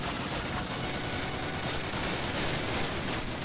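Dense battlefield gunfire from the D-Day airborne mission of the original Call of Duty fills every moment with overlapping rapid shots, loud and continuous, with no talking.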